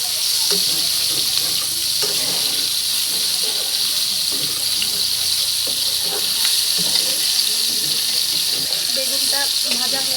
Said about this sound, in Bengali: এবার আমি ঢাকনা দিয়ে ঢেকে দিলাম, ঢেকে অল্প আছে ভেজে নেব বেগুনটা।